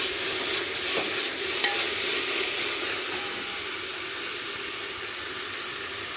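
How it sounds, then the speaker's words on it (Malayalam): Onion, ginger garlic paste and green chilli sautéing in a pressure cooker for biryani, a steady close sizzle with occasional stirring scrapes and faint clinks, no talking. "ആ കുക്കറിലോട്ട് ബാക്കി ഉണ്ടായിരുന്ന സവാള, ജിഞ്ചർ ഗാർലിക് പേസ്റ്റ്, പച്ചമുളക് ഇത്ര ഇട്ട് ഞാൻ വഴറ്റുവാണ്"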